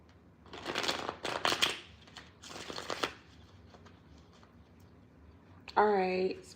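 Cosmic insight oracle cards are shuffled in a few soft, riffling bursts, close and quiet, followed by a short gap and a brief higher-pitched sound at the end.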